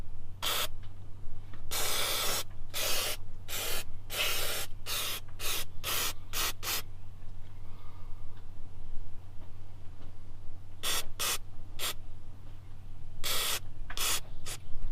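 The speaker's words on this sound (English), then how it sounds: "we're going to clean this off with some brake clean right now." Sharp bursts of brake cleaner spray hit the engine of a 6.0 Powerstroke diesel near the glow plug harness, where there is an oil leak, in two quick clusters of short hisses with a quiet pause between them.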